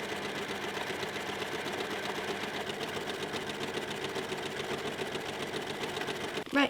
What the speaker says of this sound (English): Next thing I need to do is run everything through the overlocker